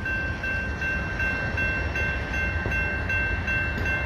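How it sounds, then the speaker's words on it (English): A Union Pacific intermodal freight train rolls past the Massingale Road crossing with a steady, loud rumble of wheels and cars, continuous and unbroken, with a faint high ringing tone running throughout. "There's the little HEP thingy on the back, which kind of tells you it's the end of the train."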